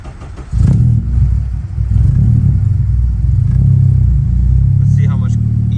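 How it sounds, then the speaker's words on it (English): A supercharged K20A engine in a Honda Integra Type-R cold-starts with a cranking catch, then settles into a loud, steady, rumbling high idle close by, with a brief voice near the end. "Cold start on Integra Type-R."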